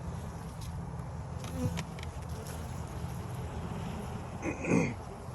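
Honeybees buzz inside a hive during a spring inspection after smoking, a steady dense hum close to the listener with brief louder passes from individual bees.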